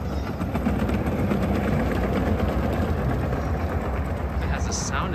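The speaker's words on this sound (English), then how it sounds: "It has the sound of a train." A train sound effect plays at a model display in Legoland Dubai, a steady rumbling, rattling rail noise heard at moderate distance amid crowd murmur and talking.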